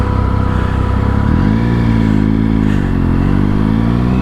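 A motorcycle idles after a run on new tires, its hot engine's cooling fan whirring in a loud, steady drone close by that dips slightly in pitch partway through.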